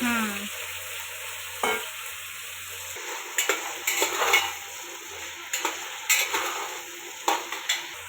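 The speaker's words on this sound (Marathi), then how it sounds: "वांगे तळून घेतोय आता वांगे बी फुलवरचे सगळं तळून घेणार आहे तेलामध्ये सगळं फ्राय करून घेते" Eggplant and cauliflower fry in hot oil with a soft, steady sizzle, broken by occasional scrapes and clinks of a utensil against the pan.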